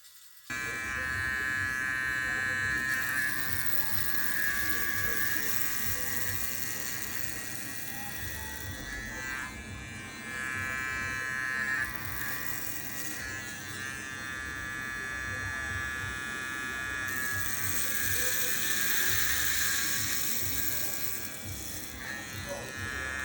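A JRL Onyx electric shaver motor runs with a steady, high-pitched buzz throughout, its tone shifting slightly as the blade moves, while someone talks quietly over it.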